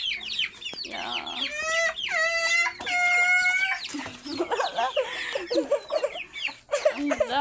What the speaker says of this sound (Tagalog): Ang aming mga chicken.